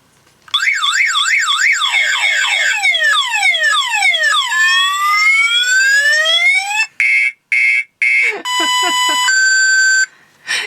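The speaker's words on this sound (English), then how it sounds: "This one is car alarm." A loud electronic car alarm cycles through several patterns: warbling wails, rising sweeps, rapid chirps and steady beeping tones, broken by brief pauses.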